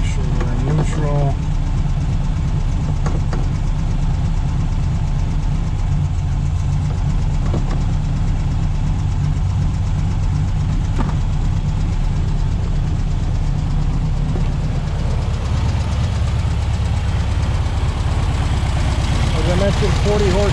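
A restored 1964 Volkswagen Beetle's 40-horsepower engine idles steadily and loudly up close in neutral, a continuous low chugging rumble that barely changes throughout.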